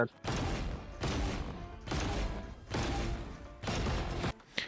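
Bursts of rapid gunfire in Valorant, five sustained volleys separated by short pauses, loud and punchy.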